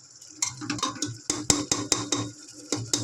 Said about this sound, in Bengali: দই দেওয়ার পর ভালো করে নাড়বে, নাই দই ফেটে যাবে।